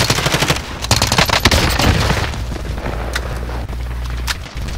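Sustained automatic gunfire in the shooter Warzone: loud, continuous rattling volleys with sharp cracks layered over distant booms and battle noise throughout.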